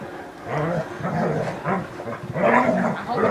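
A puppy growling playfully in bursts, a close, rough, throaty rumble that rises and falls in short repeated phrases with little pause between them.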